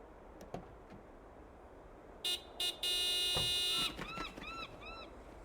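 A few short electronic video game car horn honks, then one long sustained horn blast, followed by quick chirpy bird-like calls over a low background hum.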